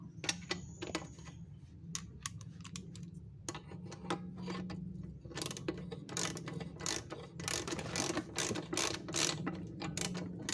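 Size 19 wrench clicking as it turns a bolt on a Vespa Matic scooter during bearing repair, a close series of sharp mechanical ratchet ticks and taps in short bursts over a low workshop hum, with no talk.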